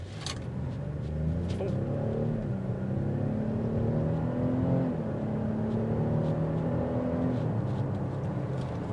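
The naturally aspirated engine of a 2022 Cadillac XT5 Sport SUV in sport mode revs up steadily from inside the vehicle, its tone climbing through gears with shifts, a constant road hum underneath.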